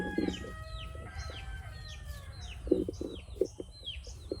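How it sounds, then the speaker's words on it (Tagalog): Chickens hiding underneath a bamboo clump cluck in short, repeated bursts close by, while small birds chirp lightly in the background. "Dito nagtatago yung mga manok"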